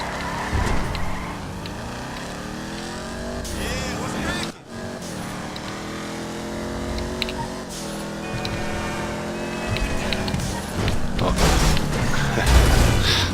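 A car engine in the GTA 5 Online PC game revs and accelerates through rising gear sweeps, loud and continuous, with a player talking over it.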